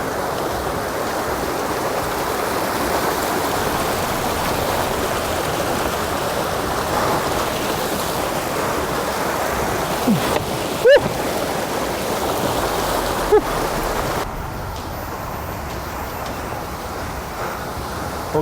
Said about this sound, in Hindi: पानी का जो फ्लो है वो बहुत तेज़ है और पानी शदीद ठंडा है